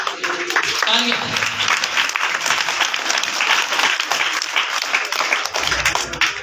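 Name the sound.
applause at a school prize-giving ceremony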